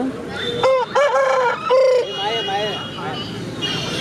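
A fighting rooster, one of several birds kept for sale among cocks, guinea fowl, turkeys and ducks, crows loudly up close in a wavering, drawn-out call, followed by softer clucking, with people talking around it.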